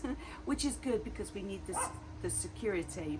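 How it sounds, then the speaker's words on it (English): Dogs bark and play outside at a home, yips and woofs popping up intermittently beneath someone talking steadily in the foreground. "The dogs are now outside barking and playing."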